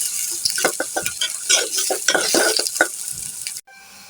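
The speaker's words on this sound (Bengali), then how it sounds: "পেঁয়াজের সাথে আমি আলুগুলো ভেজে নেব।" Potatoes and onions fry in hot oil while a spoon stirs and scrapes the pan in quick, repeated strokes, loud and close, with a steady sizzle underneath until the sound cuts off near the end.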